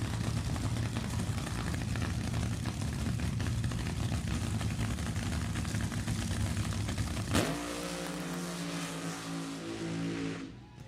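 Two Hemi drag racing engines, an early 414 and a late 426 model, roar loudly on the starting line with a dense sustained bellow, then a sharp crack and the note changes to a choppy, pulsing rumble that fades.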